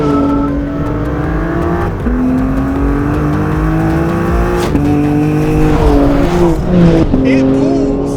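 A 2021 BMW M4 Competition's twin-turbo inline-six pulls hard, its loud engine note rising steadily through the gears with short shift breaks and a near, continuous roar, while a voice talks over it.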